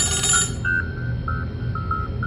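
Phone ringing with an incoming call in a cartoon horror story, a repeating electronic ringtone of short steady beeps that carries on over a low background hum.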